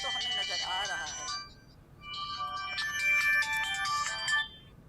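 A mobile phone ringtone plays nearby, a bright melodic tune in two bursts with a short gap between them, heard in a Pakistani TV drama scene.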